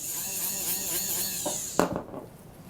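A rotary polishing wheel spinning at about 10,000 RPM against a DuraFlex or ClearFrame denture partial gives a steady, close, high-pitched whirring grind that cuts off abruptly near the end, leaving a faint tail.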